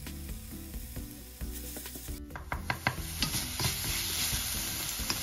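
Grated coconut frying with sugar, stock powder and fragrant spice paste in a pan for Indonesian vegetable urap, a steady close sizzle with clattering stirring strokes that grows brighter and louder as the coconut goes in partway through.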